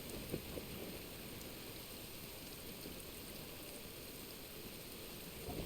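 Steady rain falls in the video game Genshin Impact, a constant even hiss of drops with a few brief louder patters, no voices, filling the scene at a moderate level throughout.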